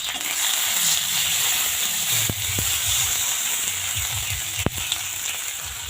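Masala with turmeric and chili powder sizzles steadily in a frying pan as it is fried down, a dense, continuous crackle with a few sharp clicks from stirring.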